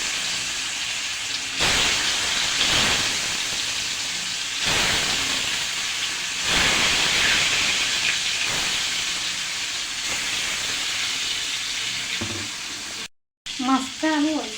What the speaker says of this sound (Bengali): এখন আমি এগুলো দিয়ে একটু মেখে ভেজে নিব